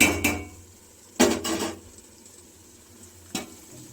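Marinated chilli chicken, coated with chilli powder, coriander powder, curd, lemon, ginger and garlic, drops into a metal pot for biryani, giving a few sharp clanks and scrapes with quiet gaps between.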